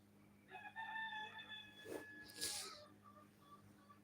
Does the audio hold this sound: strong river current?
no